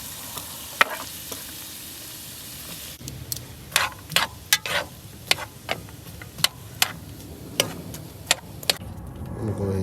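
Garlic and vegetables for chicken fajitas sizzling in a pan, a steady close frying hiss broken by a run of sharp clacks and taps from stirring, with no talking.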